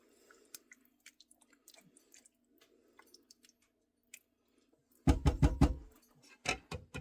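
Someone chews a mouthful of leftover soup turned beef stew, soft close mouth clicks and squishes, growing louder and wetter toward the end.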